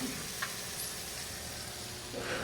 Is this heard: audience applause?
no